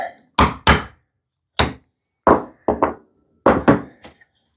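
A punch is tapped into wood to mark a divot for a bead loom, giving about eight sharp, close knocks spaced irregularly, some in quick pairs, with short silences between them.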